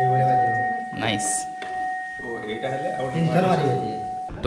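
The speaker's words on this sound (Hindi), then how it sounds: "यहाँ पे ये घंटी है" A dining bell at the Belgadia Palace in Mayurbhanj gives a steady, sustained ringing tone that hangs under nearby conversation for the whole stretch.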